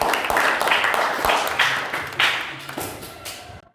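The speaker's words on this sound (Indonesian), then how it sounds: "Tepuk tangan dulu untuk penulisnya." A small group claps for the script writer of a drama production, a few uneven bursts of close, bright hand claps with distinct individual slaps, fading quickly at the end.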